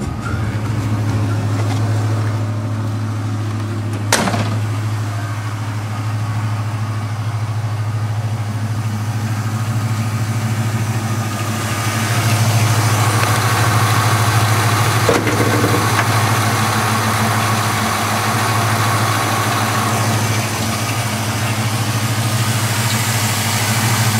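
A 1970 Camaro pro-touring show car's engine idles steadily with a deep, low rumble and constant mechanical vibration, holding an even loudness throughout with a brief sharp knock near the start.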